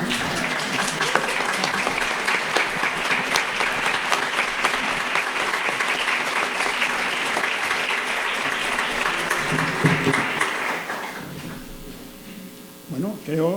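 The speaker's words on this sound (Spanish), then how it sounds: "las felicitaciones por un aplauso tan largo de sus colegas." A long round of steady applause fills a hall after a talk at a theatre and history event in Colombia, dense and sustained before fading out near the end.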